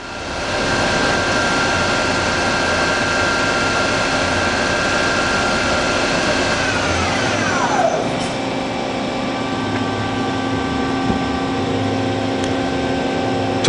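Doosan Lynx 300 CNC turning center with its spindle spinning up to 2,000 RPM, a loud steady mechanical whine and hum that shifts pitch partway through, then holds a constant drone.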